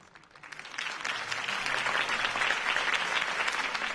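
A crowd applauding after a campaign speech in Batman: The Telltale Series, clapping swelling up from quiet into a dense, sustained roar of many hands that stays loud and even to the end.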